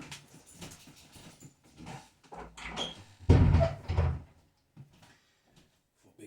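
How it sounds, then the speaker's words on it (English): A door is pushed shut and locked: soft handling noises lead into a heavy thud, followed by a few small clicks and taps before it goes quiet. "let me close this door."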